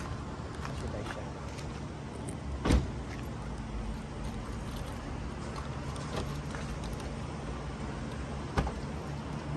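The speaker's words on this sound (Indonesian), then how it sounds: "sekarang kita masuk ke mobil dan menuju ke" Car cabin noise as the vehicle drives toward Masjid Aisyah before dawn: a steady low rumble with two brief sharp knocks or bumps, no talking.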